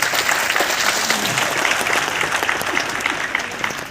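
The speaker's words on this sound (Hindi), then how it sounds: "Last 5 minute Tali बजाइए।" Sustained audience applause fills a hall at a business seminar function in Ludhiana, dense steady clapping from a large crowd, loud and continuous throughout.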